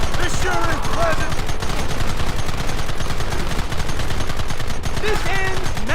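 Continuous rapid gunfire in the video game Red Dead Redemption, with dense overlapping shots rattling loud and close for the whole stretch, while voices shout briefly over the shooting.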